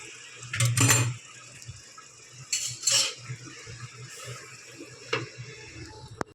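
A lid going onto a cooking pot of rohu fish curry with papaya: a few sharp metallic clanks and clatters, separated by quiet pauses.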